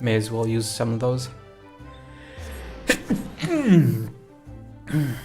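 A single sharp sneeze bursts out between spoken phrases, loud and close, with someone talking before and after it.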